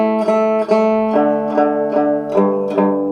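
Banjo picking a 6/8 jig pattern, bright plucked notes in a lilting triple rhythm with regular accents, played close and clear with no voices.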